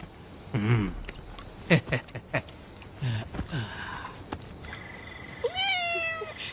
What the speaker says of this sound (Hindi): दूसरी बिल्ली।